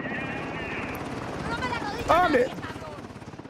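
Helicopter overhead in the shooter game Call of Duty: Modern Warfare II, a steady rhythmic rotor thump running throughout, beneath a voice speaking and exclaiming.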